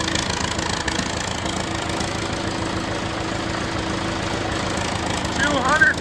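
A smoky John Deere 450C dozer engine runs at a steady, rough idle, close and continuous, with a brief rise in level near the end.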